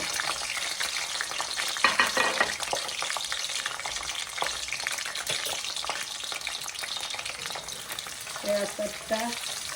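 Dried chilies, bay leaf and garlic sizzle steadily in hot mustard oil for a mango pickle, a continuous close frying crackle with occasional stirring scrapes.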